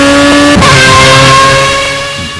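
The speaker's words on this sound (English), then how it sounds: "There's a Formula A car I just zipped past there." A Formula A open-wheel race car in Project Cars gives a loud, high-pitched engine whine. It shifts sharply as the car zips past, then holds and fades slightly as it pulls away.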